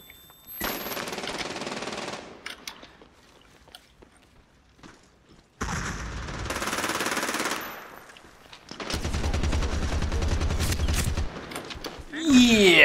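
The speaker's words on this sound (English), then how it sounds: "Grenade!" Combat in the shooter Medal of Honor Warfighter: loud bursts of automatic gunfire come in separate blocks with quieter gaps between them, and a grenade blast falls among the firing.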